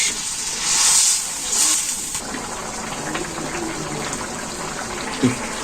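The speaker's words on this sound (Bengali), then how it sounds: "এই যে জল দিয়ে দিল" Water poured into vegetable curry cooking in a pot, a loud rushing gush at first that settles into a steady hissing bubble, with a brief clink near the end.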